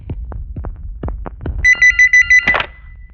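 A telephone rings in a film scene, a loud electronic warbling ring in about five quick pulses following a series of soft thumps, then cut off by a short noisy burst.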